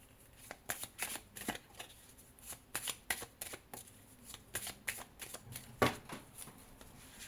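Tarot cards being shuffled and drawn, a run of quiet, close riffling and slapping card sounds in uneven bursts, with faint speech barely present.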